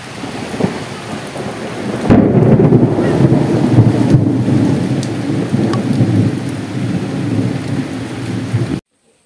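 A thunderstorm outside a house: steady rain hisses, then at about two seconds a loud, close thunder crack breaks into a long rolling rumble over heavy rain before the sound cuts off abruptly.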